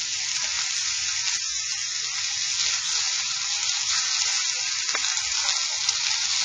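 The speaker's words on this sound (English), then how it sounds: "It really does not take long for meat to brown." Ground meat browns with onions and garlic in a pan for tacos, giving a steady, loud, close sizzle with no break and no voices.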